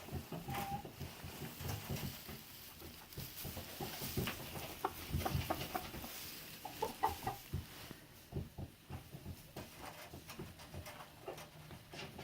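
Bovans Brown laying hens cluck softly and intermittently, a quiet scattering of short clucks and scratching sounds at a distance, with no talk.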